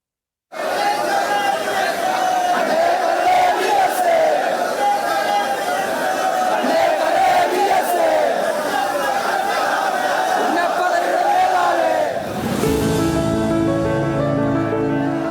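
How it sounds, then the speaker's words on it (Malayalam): A large crowd gathered for the 102nd birth anniversary of V.S. roars and chants loudly and continuously for about twelve seconds, dense massed voices, then the din cuts off into a quieter tonal passage. "ജനക്കൂട്ടത്തിന്റെ ഈ ആരവവും സ്നേഹവും വി.എസിന് ഊർജമായിരുന്നു"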